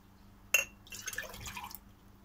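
Homemade cranberry mors poured at an outdoor kitchen: a sharp clink, then a short trickling, splashing stream of liquid into a glass lasting about a second, close and fairly clear.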